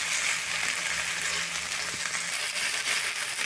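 Fish frying in mustard oil in a pan gives a steady, close, bright sizzle and hiss that runs unbroken, with faint stirring noises underneath.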